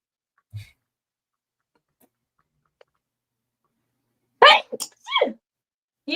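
A single sharp sneeze bursts out mid-conversation on a live evening stream, loud and close, with a quick second burst after it, followed by a short vocal sound; before it the room is nearly silent apart from a faint earlier noise.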